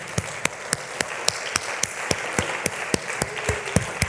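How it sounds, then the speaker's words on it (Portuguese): A church congregation claps in a steady, even rhythm during a Portuguese-language service, about four crisp claps per second sustained throughout at moderate loudness. "Vamos dar outra salva de palmas para Jesus Cristo."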